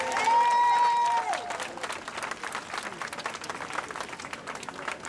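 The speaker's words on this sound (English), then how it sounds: "Everybody give him a round of applause," A crowd at an outdoor patriotic rally breaks into applause, many hands clapping in a thick, lively patter. A loud held voice or whistle-like tone sounds at first and then fades under the clapping.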